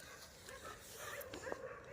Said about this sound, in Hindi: कुत्ते भी भौंक रहे हैं यहाँ पे हैं आसपास